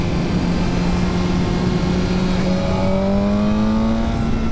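A 2024 KTM 1390 Super Duke or BMW M1000R motorcycle pulls hard out of a corner, its engine note climbing steadily in pitch as it accelerates, loud and continuous with no voices.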